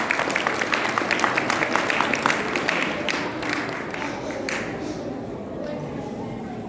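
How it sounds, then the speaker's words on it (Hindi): An audience at a festival cultural program applauds as small children are welcomed to the stage, with dense steady clapping in a crowd that gradually softens toward the end, a voice speaking over it. "एक बार फिर से तालियों के साथ स्वागत किया जाए हमारे छोटे बच्चों का"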